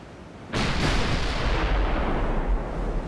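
A single naval gun ranging shot in Ultimate Admiral Dreadnoughts, from a battleship clash between a refitted Hood and a Bismarck, bursts in loudly after a brief quiet and rolls into a long, heavy rumbling boom that fills the rest of the moment.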